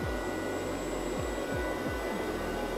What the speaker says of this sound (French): Voilà, donc je lance l'aspirateur qui va donc sortir de sa base.